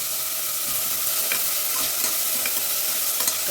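Onions sautéing in a pan while biryani is cooked, giving a steady, loud bed of sizzling and frying crackle throughout with occasional stirring scrapes and no talking.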